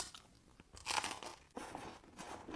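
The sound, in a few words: crunching on crispy fried Algerian pastry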